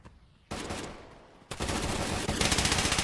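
Gunfire from a competitive match of The Finals shooter game: a dense burst of automatic fire, a brief lull, then sustained loud rapid shots continuing to the end, with no talking.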